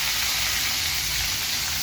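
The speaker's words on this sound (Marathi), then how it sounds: "आता मी या तेलामध्ये इथे जिरं घालते। जिरं फुलल्यावरती कढीपत्ता" Cumin seeds and curry leaves sizzle in hot oil in a pan, a loud, steady, close hiss of frying with no pauses.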